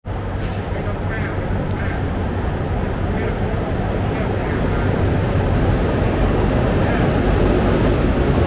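Steady, loud rumble of a train at a Thai railway station, a continuous low-heavy roar with faint hiss on top, holding evenly throughout.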